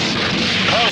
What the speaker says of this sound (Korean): 그렇게 트럭은 폭발.